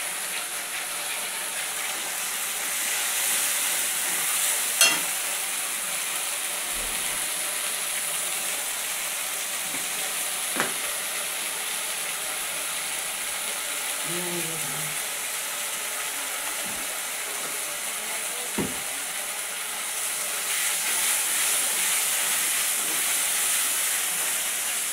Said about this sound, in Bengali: এটা একটু ভাজিয়ে নেবো